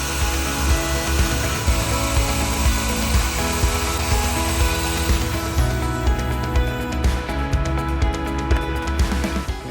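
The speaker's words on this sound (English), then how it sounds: "drilling the holes for the lock screws that are going to keep the new cutlass bearing in place" A power drill grinds and whirs loudly and continuously, drilling holes for lock screws holding a boat's cutlass bearing, with a rough, buzzing mechanical tone and some scraping throughout.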